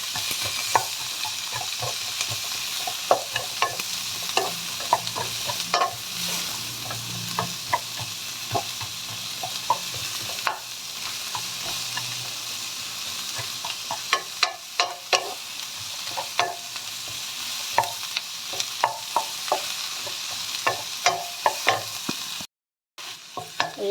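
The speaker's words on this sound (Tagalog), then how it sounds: "Tapos yung sibuyas na puti. I-brown lang natin siya." White onion browning in a hot pan for mung bean soup, a steady sizzle with frequent scraping clacks of a utensil stirring, close and continuous, ending in a brief cut of silence.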